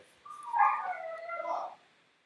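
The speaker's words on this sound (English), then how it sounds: "I've got dogs in the back" A dog in the background lets out one drawn-out whining howl that rises and wavers for about a second and a half, moderately loud against an otherwise quiet room, with no talking.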